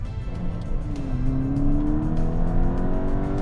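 Volkswagen GTI MK6 fitted with R8 ignition coils pulls hard through second gear, its engine note rising steadily in pitch and holding loud and close from start to finish, with no talk over it.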